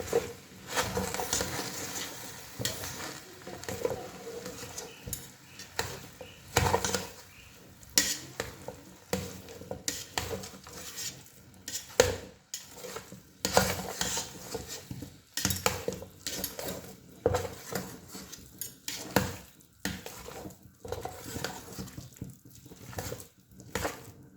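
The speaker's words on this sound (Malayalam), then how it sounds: "ഇനി ഇതെല്ലാം കൂടെ നമുക്കൊന്ന് ഇളക്കിയെടുക്കാം" Kappa puzhukku, a Kerala tapioca mix, stirred in a pot with a spoon, giving steady scraping, clinking and soft sizzling that repeats in uneven bursts, close and moderately loud, with no talking.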